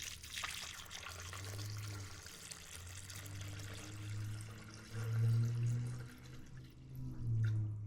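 Water pours and trickles into a vessel while mead is being mixed from honey and blackberries, a steady low gurgling filling sound that swells and pulses near the end, with no talking.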